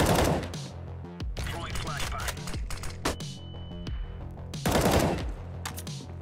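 Bursts of rapid gunfire ring out in the video game Counter-Strike, loud repeated shots with sharp cracks and short pauses between volleys, and someone talks over part of it.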